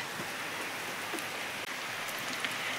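Steady rain falls on a farmyard during the monsoon, a dense even patter of drops that stays constant and fairly soft, with no voices.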